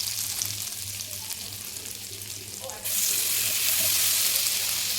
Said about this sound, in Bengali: তো একটু নাড়িয়ে দিয়ে দেবো এই চিকেনটা